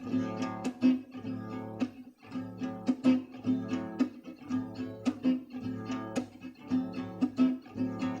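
Funk ballad guitar accompaniment played alone, a steady strummed groove of chords with sharp percussive chops and muted scratches in a relaxed repeating rhythm, close and moderately loud.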